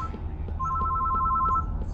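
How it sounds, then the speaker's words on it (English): A telephone rings in the PC horror game Closing Time (Night Shift), a steady electronic two-tone trill heard once, close and clear, with no talking over it. "Well, there's the phone again."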